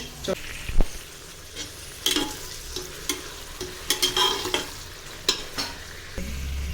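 Onions frying with a pinch of rock salt in a pan for chicken biryani, with a steady soft sizzle broken by sharp scrapes and clinks of a stirring spoon, close by and without any talk.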